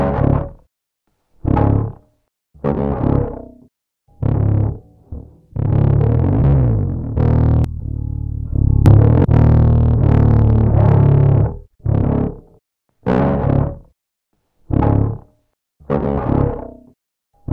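Short bursts of a musical source run through the United Plugins Cyberdrive multi-band distortion plugin, gritty and saturated, stopping and starting in separate phrases with one longer sustained stretch in the middle, loud and dry with no voice.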